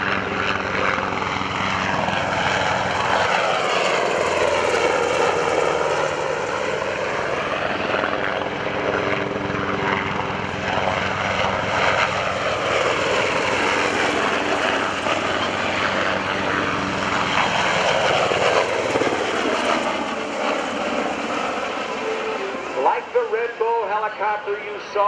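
UH-60 Blackhawk helicopters roar at an air national guard open house and airshow, the loud rotor and turbine sound swelling and fading as they pass, with announcer talk mixed in.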